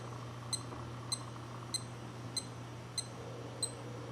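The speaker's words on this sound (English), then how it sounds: "listen to the tones of the beeps as I go through the different modes." Casio Pathfinder PAW1200 wristwatch cycling through its modes, giving six short, crisp electronic beeps at a steady pace of roughly one every 0.6 seconds over a quiet background hum.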